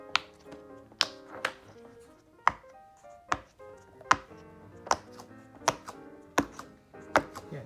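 Sharp popping clicks from a fidget toy set being pressed, about a dozen irregular pops spread over several seconds, close and fairly loud with no talk.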